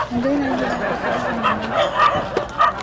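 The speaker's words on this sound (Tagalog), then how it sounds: "ang Daming aso, guys." Several dogs bark and yip at a distance outdoors, short scattered barks under a person talking nearby, amid a busy background with a faint tonal whine.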